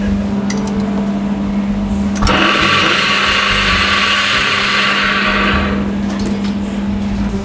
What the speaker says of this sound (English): Blender goes on.